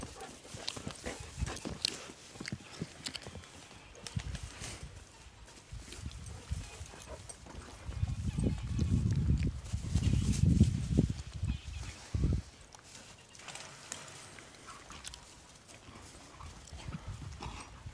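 A pony walks nearby, its hooves clip-clopping in irregular steps, with louder thudding bursts in the middle stretch and quieter footfalls before and after.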